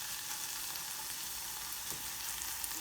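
Softened onions frying in a pan for a chicken and pepper curry: a dense, even sizzle with no break, a faint stir or two, heard close with no talking.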